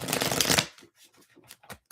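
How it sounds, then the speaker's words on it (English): Tarot cards are riffled in one loud, dense burst of fluttering close by, then a few lighter taps and slides as the deck is squared, with no speech. "I do see Ace of Cups on the back of the deck as I'm shuffling"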